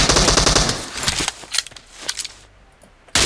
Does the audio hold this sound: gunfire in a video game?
yes